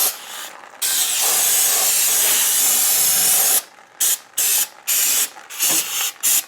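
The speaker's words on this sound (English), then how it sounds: "Going right to town with the brake parts cleaner" Aerosol brake parts cleaner sprayed onto rear drum brake parts of a Ford F-150, one long loud continuous hiss followed by several short bursts, close by with no talk.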